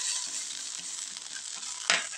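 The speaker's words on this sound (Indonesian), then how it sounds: "Setelah aromanya terasa, baru kita masukkan ikan terlebih dahulu." Fish going into a hot pan of frying spice paste for gulai tempoyak, giving a steady close sizzle with stirring scrapes and a sharper burst of hissing near the end.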